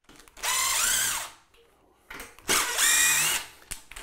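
A power drill drives screws into wooden bathroom framing during a remodel in two sustained, loud whining bursts with rising and falling pitch, separated by a short pause with faint handling noise.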